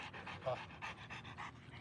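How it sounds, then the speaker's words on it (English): A dog close by gives quiet, rapid vocal bursts in a steady rhythm, like soft barks mixed with panting, with no voices over them. "That was June that barked"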